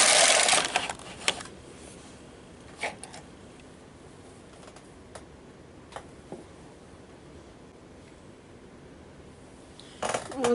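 A Bond knitting machine with ribber attachment knits a row, with a brief carriage slide at the start and end and scattered faint clicks and clacks between, quiet and close.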